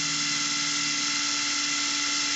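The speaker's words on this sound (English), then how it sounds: "I started drilling holes into his backpack" A drill bores holes into a plastic action figure's backpack, giving a continuous high-pitched whine with a steady tonal hum beneath, close and loud for the whole stretch.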